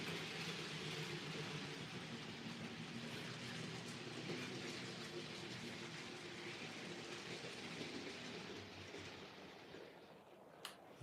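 A model HST train runs along a model railway track with a steady, quiet, continuous whirring rumble and faint clicking, fading slightly near the end, with a small click at the close.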